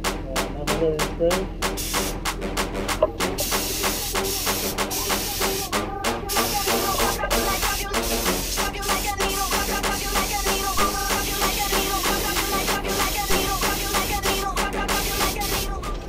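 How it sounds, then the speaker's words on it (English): Clear coat paint sprayed from a spray gun after mixing, a steady hissing spray running the whole time with a constant loud level, with other busy background sounds layered over it. "So here we go. Spray."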